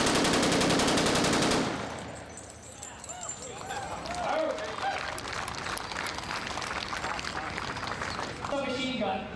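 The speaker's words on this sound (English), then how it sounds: "And this is the BAR and fast fire mode." A Browning Automatic Rifle in fast fire mode rips off a loud, rapid burst at the start, followed by crowd noise and scattered activity at a D-Day anniversary event at the National WWII Museum.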